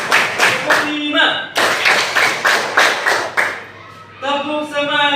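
Classroom of children clapping hands together in short counted bursts, sharp claps in quick rhythmic groups with pauses, interleaved with voices chanting along.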